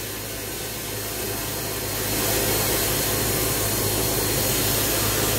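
An SBC420 suction blast cabinet blasts stainless steel plates with coarse aluminium oxide at about 80 to 90 psi, a loud continuous hissing roar that swells after a couple of seconds and then holds steady, with no talking.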